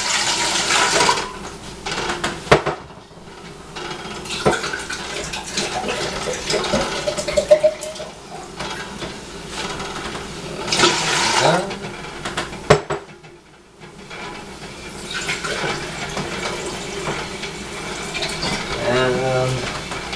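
Cold water from the fridge poured into a soup pot for a lentil and vegetable soup, splashing among clattering pots and utensils in a home kitchen, with someone talking.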